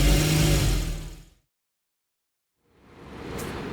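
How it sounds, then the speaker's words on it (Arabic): A Porsche Cayman S engine with its bay uncovered and a faulty right power shaft coupling revs loudly and close, cuts to silence for over a second, then rises again. "الصوت عالي جدا لان المكنه زي ما احنا شايفين مكشوفه لسه مش متغطيه"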